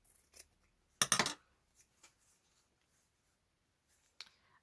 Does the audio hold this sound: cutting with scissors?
yes